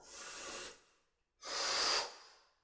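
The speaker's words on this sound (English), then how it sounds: "Open the mouth, exhale." Two slow, close, airy exhalations through an open mouth during a breathing exercise, each a soft sustained rush of breath separated by a brief silence.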